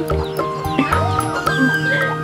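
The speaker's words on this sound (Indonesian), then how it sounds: "Gangguin ayam." Several chickens cluck and squawk nearby in agitated bursts, with a busy outdoor background.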